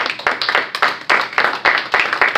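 Congregation clapping hands in rhythm during a Spanish-language church worship service, a steady run of sharp claps in bursts with no talking.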